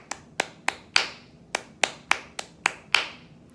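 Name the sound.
hand clapping a syncopated rhythm from measure 22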